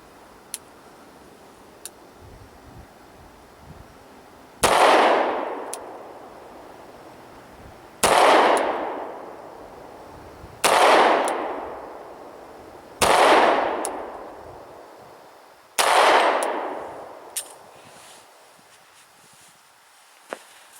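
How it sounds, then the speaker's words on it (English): Five loud, close pistol shots from a Beretta Cougar ring out alone and are spaced a few seconds apart. Each sharp crack decays into a short echo, and faint clicks can be heard between them. "I'm going to shoot one round double action, and then we'll transition into that single action pull"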